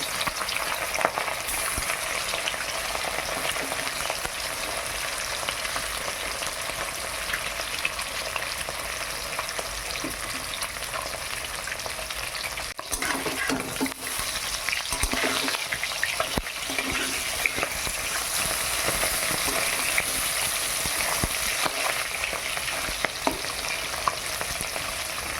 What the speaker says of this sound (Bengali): খুব সুন্দর করে লাল লাল করে ভাজা হয়ে গেছে।